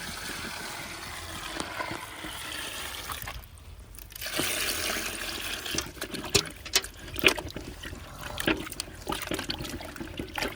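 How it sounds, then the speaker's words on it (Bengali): New potatoes being rubbed and washed by hand in a vessel of water in an outdoor village kitchen: quiet sloshing and splashing, a brief lull partway, then busier, choppier swishes and drips. "আমরা কচলে আমার আলুগুলো ধুয়ে নেব।"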